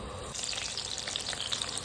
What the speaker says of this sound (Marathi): त्याच कढईमध्ये मी मस्त आता तेल टाकलेले आहे त्याच्यामध्ये आता थोडीशी कोथिंबीर टाकून घेऊया